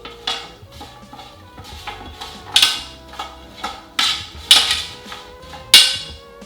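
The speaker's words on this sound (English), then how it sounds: "let's just give that a quick stir" A metal spoon stirs salt and paprika into food in a dish, giving a run of sharp clinks and scrapes that come in irregular bursts, louder toward the end, with no talking.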